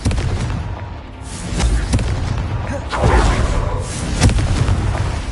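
The Confringo blasting spell goes off in a video game with a run of heavy booming explosions, loud and close, swelling and fading over several seconds.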